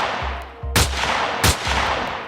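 Gunshots in archival footage of the Kennedy assassination ring out as sharp, loud cracks spaced under a second apart over a constant noisy, hissing background.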